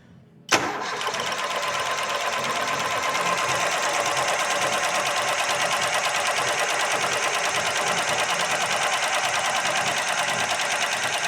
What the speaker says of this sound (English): We're going to wind it over with the coil packs disconnected, so we can build some oil pressure up and fuel pressure.